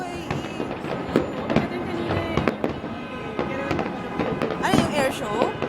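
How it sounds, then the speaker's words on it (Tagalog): Fireworks burst repeatedly at a UAE National Day celebration, sharp cracks and booms at irregular intervals over a busy crowd, with people talking throughout. "may formation ng fireworks na yun"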